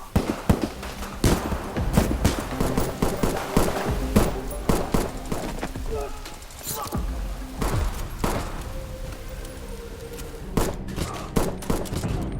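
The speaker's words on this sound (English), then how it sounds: "a violent firefight erupts" Rapid bursts of gunfire crackle and pop in irregular volleys, loud and close, with heavy thuds mixed in throughout a chaotic exchange.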